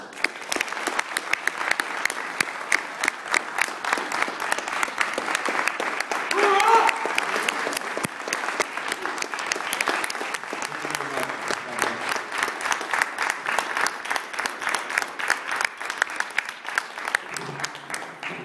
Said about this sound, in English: if I could just give another round of applause for all the veterans here, that would be great.